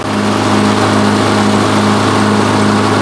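A drift car's engine barely idles, a loud, continuous low drone holding a steady pitch throughout with no speech.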